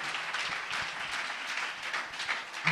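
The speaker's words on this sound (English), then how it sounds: "Give him a good clap." Church congregation clapping together, a steady crowd applause of many hands that holds at an even level throughout, with no talk over it.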